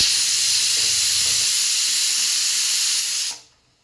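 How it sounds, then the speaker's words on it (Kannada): A pressure cooker whistle lets out a loud, steady hiss of steam for about three seconds, then cuts off sharply into near silence, in a home kitchen while a broad bean curry cooks. "ಜಸ್ಟ್ ಒಂದೇ ಒಂದು ವಿಸಿಲ್ ಕೂಗಿಸ್ಕೊಂಡ್ರೆ ಸಾಕಾಗತ್ತೆ."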